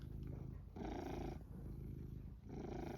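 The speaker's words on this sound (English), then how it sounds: "You're purring" Close, quiet cat purring, a low rumbling rhythm that swells and eases with each breath.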